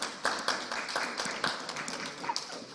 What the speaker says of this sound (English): we want to extend a round of applause to them, and particularly to Director Christine Randall